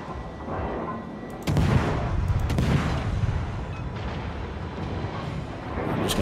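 Ship guns in World of Warships fire high explosive rounds from a tier 1 vessel, booming loudly in a couple of heavy blasts over a dense, continuous rumble of battle noise.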